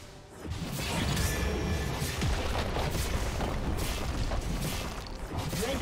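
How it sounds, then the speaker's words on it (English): A League of Legends turret is destroyed, a sustained crashing, booming collapse with layered impacts that fills nearly six seconds at steady loudness, without speech. "Red team's turret has been destroyed."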